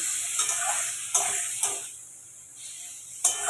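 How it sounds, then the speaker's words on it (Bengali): Marinated chicken, being made into a black-pepper chicken dish, sizzles in a hot pan. It is stirred in several separate pushes, each bringing a louder burst of hiss and scraping, close by and with no talk. "এটাকে কিন্তু আমি ভালো করে এরকমভাবে এটাকে নেড়ে নেব"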